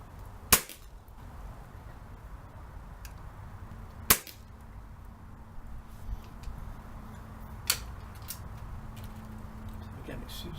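An AGS SPR10 custom-tuned airsoft rifle with a modified trigger fires at targets, giving a few sharp, isolated cracks spaced several seconds apart over a steady low background hum.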